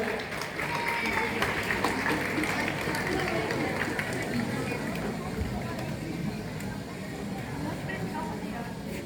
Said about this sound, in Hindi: शिवालिक हाउस के ये मार्क्स जाकर जोरदार तालियों।